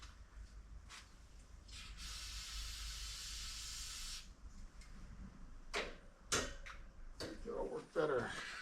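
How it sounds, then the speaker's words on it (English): Throttle body cleaner sprays onto a car's throttle body in a steady hiss of about two seconds, with shorter spray bursts, clicks and handling noises around it. "Throttle body cleaner."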